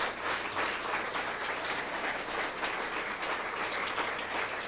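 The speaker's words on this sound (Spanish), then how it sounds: "Un fuerte aplauso de acción de gracias a Dios." A church congregation claps in thanksgiving to God after a conference, a steady, fairly soft wash of many hands clapping that carries on without a break for several seconds.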